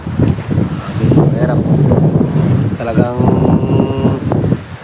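Strong wind roars steadily across the microphone at sea off Occidental Mindoro, with whitecapped waves and rushing water beneath, while voices talk over it throughout.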